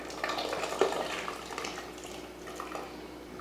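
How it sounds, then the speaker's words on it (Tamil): Cooked lentils (dal) poured into simmering vegetable sambar make a soft, wet splashing and slopping, faint and close, with a small clatter at the very end. "இப்போ இதில் பருப்பு ஊற்றிடலாம்."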